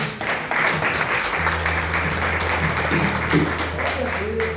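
A church congregation at a Pentecostal service breaks into sustained applause for several seconds, dense clapping mixed with voices and a low hum throughout.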